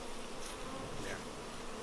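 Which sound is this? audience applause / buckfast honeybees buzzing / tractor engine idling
buckfast honeybees buzzing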